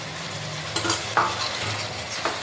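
Tomatoes being stirred into chicken biryani masala in a pot, with soft scraping strokes and a faint sizzle, a few louder scrapes standing out against steady low background noise.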